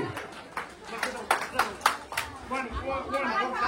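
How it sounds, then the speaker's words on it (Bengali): A crowd at a picnic in Binghamton gives a brief round of scattered hand claps that stands out among chatter and talk, near and moderately loud, fading into murmuring voices. "থ্যাংক ইউ সবাই একটা হাততালি"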